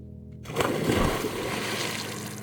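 Water sloshing and splashing in an ice-cold alpine glacier lake in the Alpine Lakes Wilderness, a close churning wash that rises sharply and then settles into a steady trickling swirl, with no talk.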